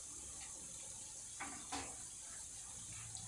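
Tap water running into a pot for traditional Finnish cabbage soup, a faint steady hiss of flowing water with a couple of soft splashes and clinks near the middle.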